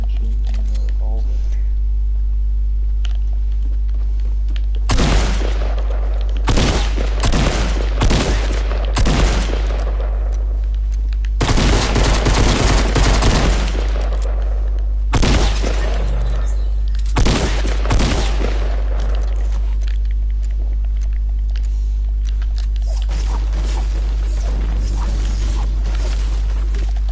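Submachine gun and revolver fire in Fortnite, loud separate bursts and single shots in clusters with quiet gaps between them over a steady low game hum.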